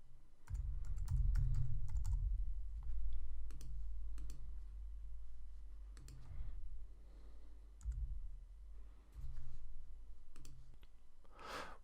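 Someone typing species names into a bird-recording website on a computer keyboard: close bursts of keystrokes and clicks separated by short pauses, with a sharper click near the end.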